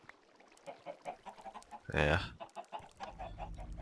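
Chickens on a Minecraft egg farm cluck in quick repeated bursts, fairly close, with one louder squawk in the middle; a voice speaks briefly.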